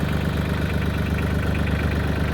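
Tractor engine running steadily while digging with its bucket in a horse arena, a continuous close, loud idle-like rumble with no pauses and no talk.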